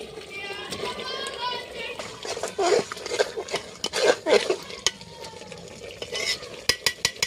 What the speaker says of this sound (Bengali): এর মধ্যে এবারে আলুগুলো দিয়ে দেবো।